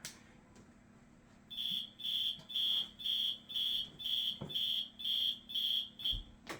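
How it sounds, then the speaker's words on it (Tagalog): An alarm beeps in rapid repeated pulses, about nine evenly spaced electronic tones over a quiet room, fairly close and alone before it cuts off. "I shut off my alarm."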